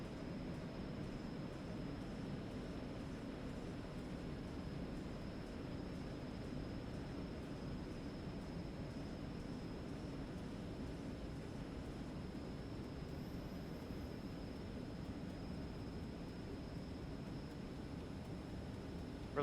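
A small Eclipse jet accelerating down the runway on its takeoff roll, a steady, dense broadband roar holding at constant loudness throughout, with no voices.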